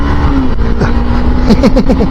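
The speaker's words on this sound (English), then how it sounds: "I don't normally rev it this high" A 26 bhp motorcycle engine revs loudly and close, climbing through rapid gear changes with a rising, buzzing whine over steady wind and road noise.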